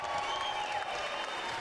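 Crowd applause at a boxing ring after a championship bout between two women fighters, a steady, dense wash of clapping and crowd noise filling the whole span without a break.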